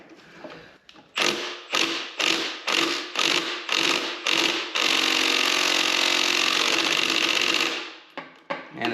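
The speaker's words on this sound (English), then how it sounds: "got my M12 impact got a 14 millimeter extractor socket, so we'll see" M12 impact wrench with a 14 mm extractor socket on a stubborn bolt, a series of rapid rattling hammer pulses followed by a sustained three-second burst of hammering, loud and close.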